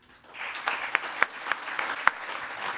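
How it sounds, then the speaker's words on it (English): A conference audience claps after an opening talk, with moderate applause that builds quickly, holds steady with a few sharp louder claps, and continues to the end. "Let's give him a round of applause for this opening."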